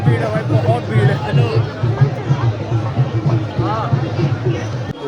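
Thick, steady murmur of a large crowd along the approach to Ajmer Sharif Dargah, many voices blending near and far with close talk running on top.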